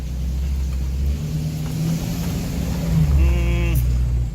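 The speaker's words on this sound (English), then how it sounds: "we still have a boost leak somewhere. I don't really know where it's coming from, but it's a low pressure boost leak" A 2011 Ford F250 with a 6.7 Powerstroke diesel idles and revs with a low-pressure boost leak, giving a steady, loud, rumbling engine drone with a slight rise in pitch partway through.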